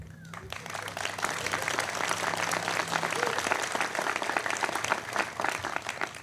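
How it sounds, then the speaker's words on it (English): An audience applauds at a city commission swearing-in ceremony in Gainesville, with dense sustained clapping that swells after a short opening and carries steadily to the end, filling the room. "Y'all don't be shy about applause lines"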